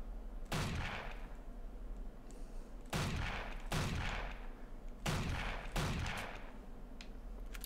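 Four heavy gunshots from a big gun in the zombie-shooting game Zombie Hunter Inc., each a loud, booming blast with a ringing tail, fired at an even pace a couple of seconds apart with no talking.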